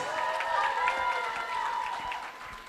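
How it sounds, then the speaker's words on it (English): A pageant audience applauds the female contestants, bright scattered clapping with some cheering heard from a distance, the level holding steady and then easing off near the end. "another big round of applause for our female contestants"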